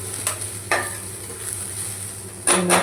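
Chillies stirred and sautéed in a pan for prawn curry, with loud spatula scrapes against the pan over a steady background sizzle, close up.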